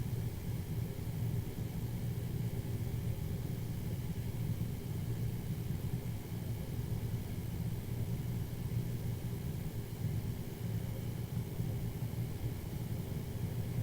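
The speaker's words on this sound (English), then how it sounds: "I've got my machines probably spinning about 15, 16, 1800 RPMs" A buffing machine spins at roughly 1500 RPM against a pool cue finish, giving a steady, unbroken low motor hum and rumble that holds even and continuous throughout.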